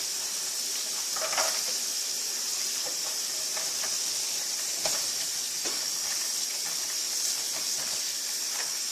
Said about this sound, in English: I'm just moving the beans around to rinse them.